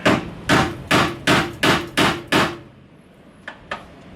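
A hammer strikes a chisel seven times in an even rhythm, knocking out the outer bushing sleeve of an inner camber arm on a BMW E91, then two lighter taps follow after a pause.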